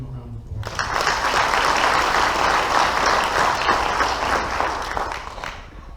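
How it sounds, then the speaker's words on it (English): Audience applause at a Bossier Parish school board meeting: a sustained, full round of clapping from a roomful of people that swells quickly, holds steady for several seconds, then begins to taper. "Let's give him a round of applause."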